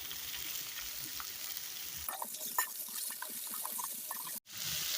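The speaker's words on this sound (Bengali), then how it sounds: "অল্প অল্প করে শাকগুলো আমি দিয়ে দিব আর নেড়ে দেবো" Steady sizzling of spinach frying in a wok, with scraping stir strokes and a brief cutoff near the end; no talking.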